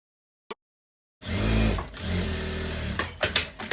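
A sewing machine stitches a seam on a tweed overcoat. A single click comes first, then after a short pause a close, steady motor whir with rapid stitching runs for a couple of seconds and ends in a few uneven bursts.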